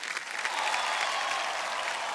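A television quiz show studio audience applauds loudly and continuously, a thick wash of clapping with no voices over it.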